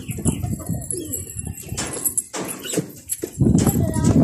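Pigeon cooing in a low, soft rhythm close by, with intermittent rustling and clopping noises and a louder burst near the end.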